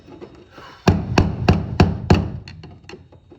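A hammer strikes the fuel pump lock ring on a 2007–2014 Chevrolet Silverado in five loud, evenly spaced metallic blows, followed by a few lighter taps, close up and with no talk.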